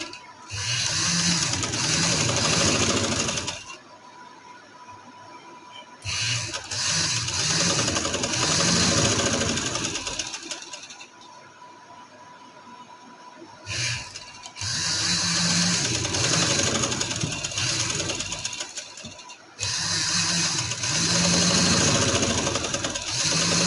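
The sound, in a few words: sewing machine stitching a trouser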